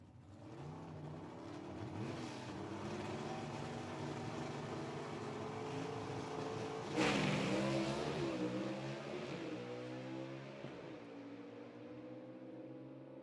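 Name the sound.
drag racing cars accelerating down the strip at Rockingham Dragway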